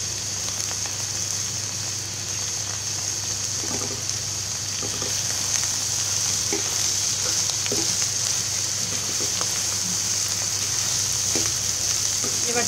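Chopped kakrol (spiny gourd) bhaji with egg frying in oil in a pan, a steady close sizzle with a constant hiss and occasional soft clicks of stirring, accompanied by a low background hum.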